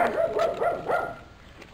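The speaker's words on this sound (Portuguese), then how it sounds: "Esse cachorro morde, gente, que medo." A dog nearby gives a quick burst of three or four short, yappy barks, moderately loud and fading out within two seconds, with no voices over it.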